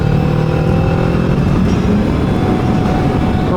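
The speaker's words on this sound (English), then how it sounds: "This chap picked the wrong day to have a motorbike lesson." A motorbike ridden during a lesson passes on a dry road in Croatia, its engine droning loud and close as a steady continuous roar that holds on, with no voices over it.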